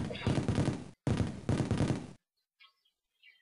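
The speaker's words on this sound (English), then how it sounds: "Oh look, fireworks, huh?" Fireworks in the Mario & Luigi: Superstar Saga video game burst as two long, dense crackling volleys separated by a short gap, followed by a few faint sparkling tones.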